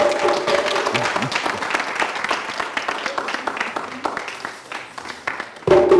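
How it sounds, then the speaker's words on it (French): Audience applauds a traditional dance troupe from a university in Ouagadougou at a televised entertainment show, steady dense clapping throughout with some crowd noise, fading briefly before a louder burst at the end. "Merci de faire des applaudissements pour notre troupe traditionnelle pendant qu'ils arrivent."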